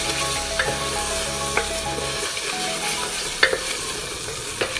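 Turmeric, garam masala and other spices stir-fried in oil for mutton keema with potato, a steady close sizzle with sharp scraping clicks of the spoon against the pan at irregular intervals.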